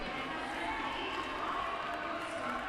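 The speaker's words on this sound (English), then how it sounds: "You can hear the cheers for her as she is still in scoring position" Roller derby crowd cheering for a jammer still in scoring position during an Eves of Destruction bout, a continuous dense wash of voices and applause throughout with an announcer talking over it.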